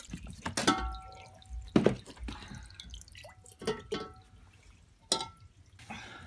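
Soaked clothes pulled from a washing machine full of water drip and splash, with scattered wet drops, small splatters and dull thunks as the heavy laundry is handled, close and fairly quiet.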